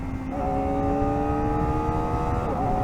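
A new Kawasaki Ninja ZX-4RR motorcycle engine revs steadily, then its pitch drops as it downshifts, heard close and loud without talk.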